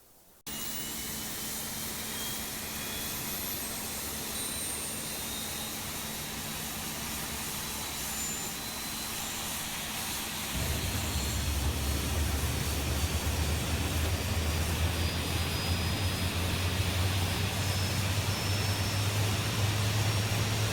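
Simulated Embraer E-Jet freighter jet engines start up in Microsoft Flight Simulator: a steady, close whooshing roar that jumps louder about halfway through as a deep low hum joins in, with no talking.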